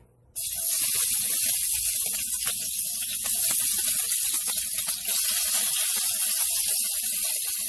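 Onions dropped into hot oil burst into a loud, steady sizzle that starts abruptly and then holds as a bright, continuous hiss.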